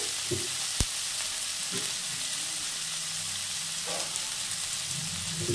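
Potatoes frying in a pan give a steady, close sizzle throughout, broken by a sharp knock and a few soft clinks of a utensil against the pan.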